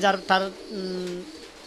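King pigeons on a pigeon farm, among them a silver male, coo close by: two short throaty calls followed by one longer drawn-out coo.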